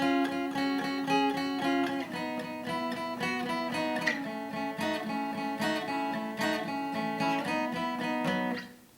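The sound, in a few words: guitar playing second part of song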